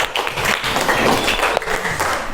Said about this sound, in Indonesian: Beri tepuk tangan untuk Mbak Kartika.